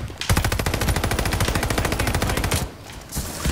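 Rapid automatic fire from a Cooper Carbine in a first-person shooter, a loud sustained burst of closely spaced shots lasting over two seconds, then a short pause before more shooting resumes.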